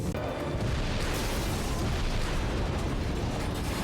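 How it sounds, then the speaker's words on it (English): A medical transport's oxygen tank explodes in a TV drama scene: a loud, sustained roaring blast with dense rumbling debris noise filling the whole span, close and overwhelming, with no speech. "Medical transport just exploded."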